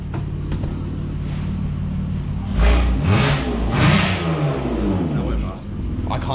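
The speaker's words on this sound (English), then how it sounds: "Can I give it a rev?" A car engine revs through a 380 exhaust, idling with a low drone and then rising in two or three throttle blips before settling, close and loud, with people talking nearby.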